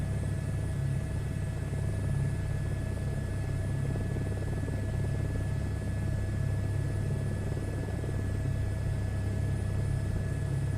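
Helicopter in a flight simulator video game hums with a steady, low rotor and engine rumble and a constant whine on top, unbroken and even for the whole stretch.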